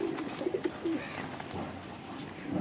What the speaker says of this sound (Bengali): অনেক সুন্দর শক্তিশালী কবুতর